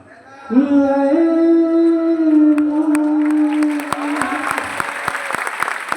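Audience clapping breaks out at a live kavi sammelan poetry gathering in Panipat, scattered claps entering under a long held vocal note and then thickening into rhythmic applause as the voice fades.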